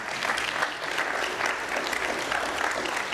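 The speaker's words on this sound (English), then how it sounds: "so everybody applaud" A conference audience at a workforce panel breaks into loud, dense applause, many hands clapping steadily and evenly throughout with no one speaking.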